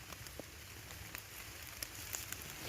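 Steady rain falls through a forest, a dense hiss of drops with a few sharper taps on leaves, continuous and moderately close, no voices.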